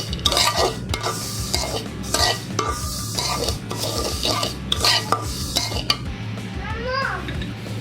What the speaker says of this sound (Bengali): কিসমিস আর কাজু বাদাম দিয়ে আমি আবার কয়েক মিনিট ভালো করে ভেজে নেব